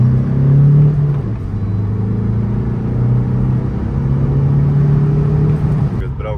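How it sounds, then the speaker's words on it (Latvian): A VW Golf 5 GT of about 210 horsepower driving in second gear at around 50 km/h, its engine a steady low drone and rumble heard from inside the car, close and loud, with no talk. "Braucam 50 km/h un aiziet."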